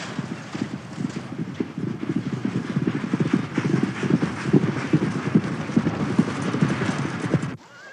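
A gray gelding's hooves clip-clop steadily on a hard surface at a barn, an even walking rhythm up close, with a faint whinny and light wind in the background.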